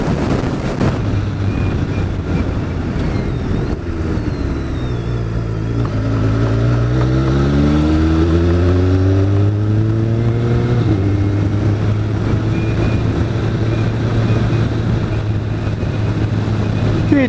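A BMW K1300S motorcycle engine under way, revving up through several rising sweeps as gears change, with steady wind rush over the microphone throughout.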